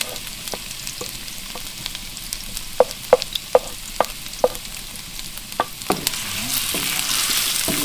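Ginger, garlic and onion sizzle in a hot pan for a burong tilapia dipping sauce. A spatula scrapes and taps the pan in repeated sharp clicks, and the frying hiss swells toward the end.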